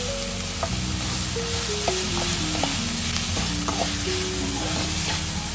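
Masala being stirred into sprout chilli in a pan, a steady sizzle with soft scraping strokes repeating close by under a constant background hum, no speech.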